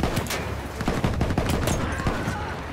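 Rapid bursts of gunfire from the video game Battlefield 1, dense overlapping shots and automatic fire crackling continuously at close range throughout, with no talking.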